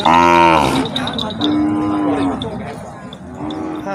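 Cattle at a Thai village livestock sale moo loudly and up close, one long drawn-out low bellow followed by further overlapping calls from several animals, with no talk over them.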